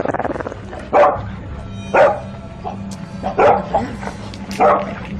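A dog barks four times in spaced, sharp bursts, fairly close, with a low steady hum underneath.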